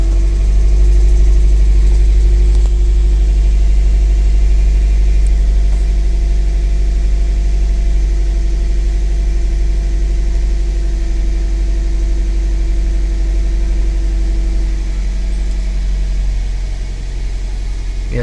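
Toyota Vios engine idling right after an ECU reset, a loud steady low rumble with a constant hum, close by and unchanging, with only a slight dip near the end and no voices.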